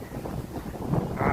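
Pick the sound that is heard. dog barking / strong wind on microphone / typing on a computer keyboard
strong wind on microphone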